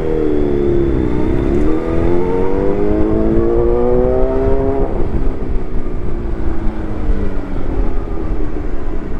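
Motorbike engine revving hard on the throttle, a loud, close, continuous drone whose pitch climbs, dips and rises again over several seconds, with no talking.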